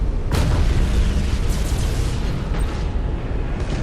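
A loud explosion as an enemy defense platform is destroyed in the space strategy game Battlefleet Gothic Armada, a heavy rumbling blast with a sharp burst near the start and further cracks sustained throughout, with no speech.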